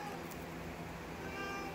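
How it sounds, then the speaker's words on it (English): A house cat meows in a home garage workshop during work on a 1958 MGA, one drawn-out meow that is fairly close and alone. "God, the cat."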